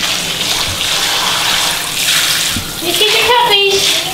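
Bath water runs continuously from a tap into a tub in a steady, close hiss, with voices chatting faintly over it near the end.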